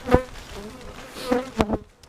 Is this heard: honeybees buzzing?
yes